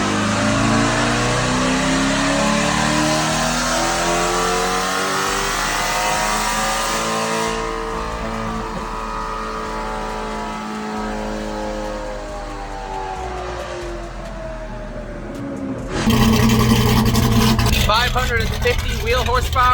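A twin-turbo C8 Corvette runs hard on a dyno, its engine sweeping up through the revs in a long, loud pull. It then drops off and surges again near the end, with the roar filling the whole stretch.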